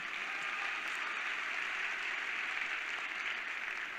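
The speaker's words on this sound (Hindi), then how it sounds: "तालियां बजा सकते हैं कोई।" Applause from an audience at a Forever Living Success Day event in Delhi, a steady dense wash of clapping that holds evenly throughout without any voices.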